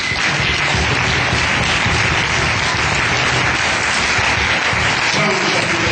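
A church congregation standing to acclaim Jesus Christ bursts into loud, sustained applause, a dense wall of clapping that fills the hall without letup.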